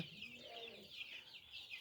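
Two hens and a rooster cluck in a small backyard flock, short chattering calls repeating faintly at a distance over quiet ambient noise.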